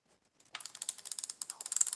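A homemade drag clicker on a Daiwa-parts baitcasting reel, drag cranked down tight, ratchets in a rapid run of sharp clicks, starting after a brief quiet moment and continuing close and steady.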